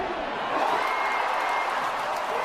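A basketball arena crowd against Nebraska keeps up a loud, continuous roar of cheering, an even wash of massed voices with no single voice standing out over the brief stretch.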